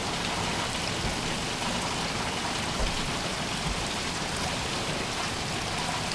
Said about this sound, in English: let's let this rain quit and we're gonna finish up,